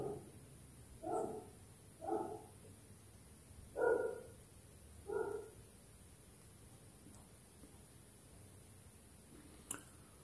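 A female dog barks in four separate bursts spread over several seconds, moderately distant against a quiet room hum, with a faint click near the end.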